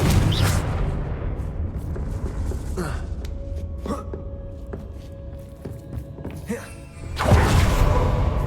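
In the Hogwarts Legacy game, the Confringo explosive spell gives a loud, heavy rumbling blast at the start and another at the end, with softer thuds and clicks between them.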